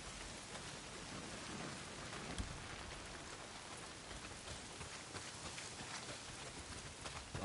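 Steady rain hisses down across a video game world, a faint, even downpour with scattered drops and no voices.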